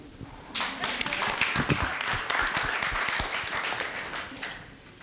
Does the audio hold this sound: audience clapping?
yes